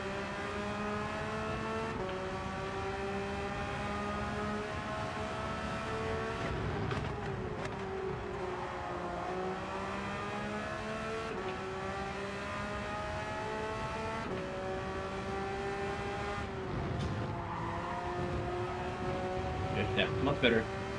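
Race car in Gran Turismo 7 holding a constant engine drone, with repeated pitch drops and climbs as gears shift down and back up, the engine note steady and loud throughout.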